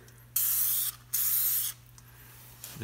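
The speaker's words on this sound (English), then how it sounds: "I'm going to spray this whole face with rust inhibitor" Aerosol rust inhibitor sprays onto the face of a car brake drum in two loud, steady hissing bursts of about half a second each, with a short faint spritz at the end.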